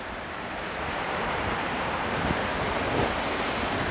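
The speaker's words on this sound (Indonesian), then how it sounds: "di sini banyak angin karena aku posisinya itu di sawah dan di pinggir kali" Wind blows hard across open rice fields beside a river, a continuous loud rush that buffets the microphone, with no voices.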